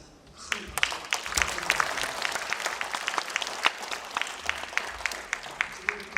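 Audience applause for a master pansori singer after a performance opening an international academic conference, a dense crackle of many hands with sharp individual claps standing out, steady and fairly close throughout.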